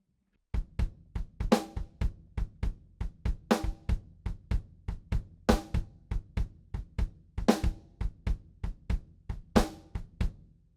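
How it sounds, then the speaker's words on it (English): Drum kit groove in nine, kick and snare combination played alone: a steady, punchy stream of close, loud hits with sharper snare cracks recurring at regular intervals. "The first thing I learned with this groove was the combination of the kick and the snare."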